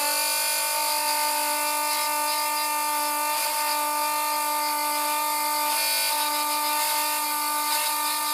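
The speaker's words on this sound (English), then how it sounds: "the Dremel bites into it" A Dremel rotary tool spins at a high steady whine while cutting into hardened super glue and cotton, a continuous tonal buzz at moderate level with slight variations as it bites.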